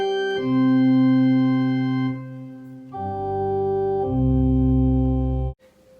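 Pipe organ with 16, 8, 4 and 2-foot pipes sounding together on one note, a full, rich chord of octaves sustained loudly, shifting through a few held notes before stopping abruptly.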